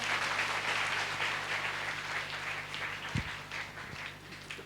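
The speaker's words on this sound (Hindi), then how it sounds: "ताली बजाकर स्तुति करेंगे, हालेलुया।" Church congregation clapping in praise during a Sunday service, a steady dense patter of many hands filling the room, with a low hum underneath and a couple of sharper thumps near the end.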